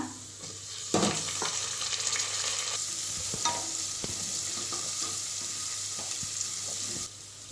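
Mint leaves fry in hot oil with ginger-garlic paste in a pressure cooker for plain biryani, a steady close sizzle broken by sharp scraping stirs and clinks of a spoon against the metal pot.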